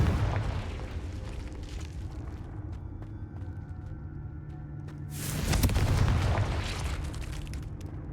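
A Confringo spell detonates in a Harry Potter video game, a loud booming blast with a rumbling tail over a steady low background din, following an earlier burst of fiery noise.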